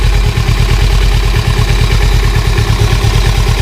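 Kawasaki Ninja 250 FI motorcycle engine idling loud and close, a steady even putter with a faint mechanical clatter and slight fluctuations, alone without voices.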